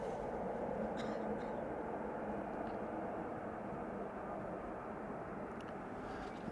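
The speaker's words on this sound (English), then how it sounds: "behind me there's an E2 Embraer making its way over and is now turning onto the glide slope" A KLM Embraer E2 jet on approach to Amsterdam Schiphol Airport, turning onto the glide slope, gives a steady, broad engine roar that holds level throughout, with faint distant ticks above it.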